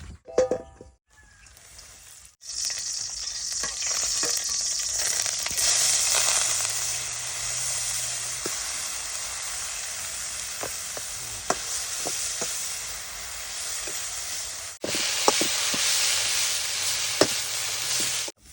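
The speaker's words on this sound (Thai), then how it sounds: "เดี๋ยวแต่ว่าเราจะไปคั่วก่อนนะครับ คั่วด้วยน้ำมัน" Wood mushrooms stir-frying in hot oil in a wok, a loud continuous sizzle with sharp clicks and scrapes of a spatula, starting abruptly after a brief pause and running steadily close up.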